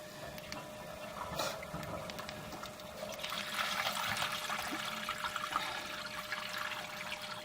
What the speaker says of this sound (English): Someone just flushed on me.